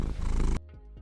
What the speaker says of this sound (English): And there's the purr from Mario.